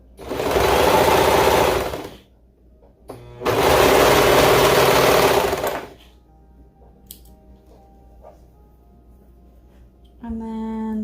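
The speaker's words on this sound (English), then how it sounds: "I'm going to go ahead and serge around the circle" A serger sewing machine stitches around a circle of fabric in two loud, fast whirring bursts of about two seconds each, separated by quiet pauses, followed by a short mechanical clunk and a brief resumption of noise.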